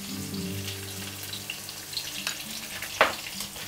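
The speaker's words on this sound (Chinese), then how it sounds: "豆瓣呢一定要炒过，它是生的辣椒，一定要炒它才会出香味啊" Chili bean paste (doubanjiang) fries in a pan over low heat with a steady soft sizzle, plus the occasional scrape or clink of a utensil stirring it.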